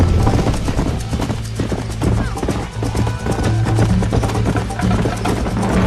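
Horse hooves clip-clop at a gallop in the Western video game Red Dead Redemption, a quick, steady rhythm of close, hard strikes over a low droning music bed.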